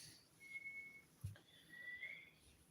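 Faint whistling in the background of a quiet room where Wayuu-style crochet is being done, two thin sustained tones with a soft thump between them.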